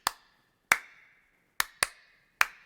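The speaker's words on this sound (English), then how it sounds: "you just hear the one clap." Sharp, close hand claps recorded in a studio, five dry single strikes at an uneven pace, each with a short decay and nothing else around them.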